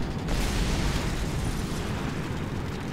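An aircraft exploding under cannon fire in a video game air battle, a loud sustained crackling blast with rumbling low end that fills the whole few seconds without pause.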